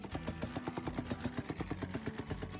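A car engine idles roughly with a loping, uneven chug like an old boat motor, a steady pulsing beat throughout with a low rumbling tone, close and fairly loud.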